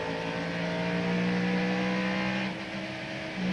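NASCAR Cup race car at the 1998 Richmond short-track race, running after blowing an oil line, gives a steady loud engine drone with a constant tone that dips slightly near the end, with no talk.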